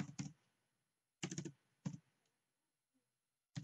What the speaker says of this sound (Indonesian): Coba kita ketik ulang